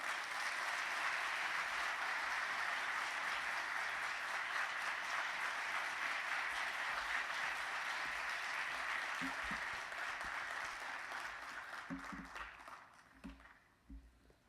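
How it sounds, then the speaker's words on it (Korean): A church congregation at a special early-morning prayer service gives warm, sustained applause to welcome the pastor to the pulpit, a dense wash of clapping that thins and fades out toward the end. "세미양교회가 보낼 수 있는 가장 뜨거운 박수로 목사님 모시겠습니다"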